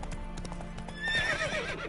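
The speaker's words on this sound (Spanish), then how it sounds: "Es que es absurdo el puto caballo" Hooves clip-clop steadily as a horse moves in The Witcher 3, with a loud whinny rising over the hoofbeats partway through, close and alone without talk.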